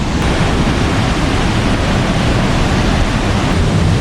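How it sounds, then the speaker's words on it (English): Rushing water at St. Mary Falls in Montana, heard up close as a loud, steady roar of broadband noise that fills the whole clip without pause. "You can feel the pressure from this waterfall."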